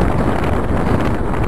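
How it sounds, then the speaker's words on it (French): Wind buffeting the microphone at the Vekoma boomerang coaster in Walibi Belgium, a loud continuous rumble and rustle throughout. "Bon, il y a du vent."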